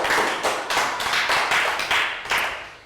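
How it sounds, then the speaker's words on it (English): Round of applause in a primary school maths classroom, a few quick rhythmic clapping bursts from a small group of children, evenly spaced and close by, lasting under three seconds. "Round of applause"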